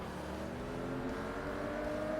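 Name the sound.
Porsche Boxster engine revving in Forza Motorsport video game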